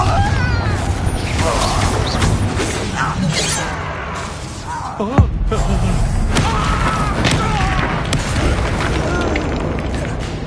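A Confringo blasting spell goes off in Hogwarts Legacy, with loud booming blasts and shattering debris amid continuous combat noise, and voices speak over the action.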